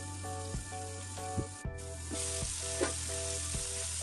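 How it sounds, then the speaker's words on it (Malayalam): Tandoori chicken fries in a pan on a medium flame, giving a low, steady sizzle. Faint, regularly spaced tonal beeps and a few soft knocks sound over it, and no one speaks. "മീഡിയം ഫ്ലെയിമിൽ വെച്ചിട്ട് ഫ്രൈ ചെയ്തെടുത്താൽ മതി"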